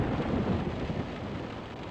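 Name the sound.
rain and thunder weather in Virtual Sailor NG video game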